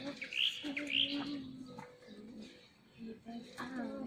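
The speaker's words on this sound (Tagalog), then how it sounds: "Maria Capra ang tawag yun sa ibon na yan." Bright, repeated chirping whistles from a small bird called Maria Capra, rising notes in short phrases, with a low voice murmuring underneath.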